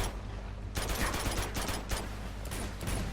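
Rapid gunfire crackles in a firefight in the video game Uncharted 2: Among Thieves, with dense bursts of automatic shots that begin after a short quieter stretch and carry on loud and steady, with no talk.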